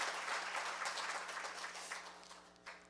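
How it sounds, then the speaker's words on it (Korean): An audience at a labour-management-government forum applauds a former National Assembly speaker, with dense, steady clapping that thins out toward the end. "다시 한번 큰 박수로 정의화 전 국회의장님을 환영해 주시기 바랍니다"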